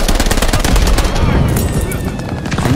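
STEN submachine gun firing in the Call of Duty Vanguard video game, a loud, continuous rapid burst of automatic shots lasting several seconds, with a faint voice underneath.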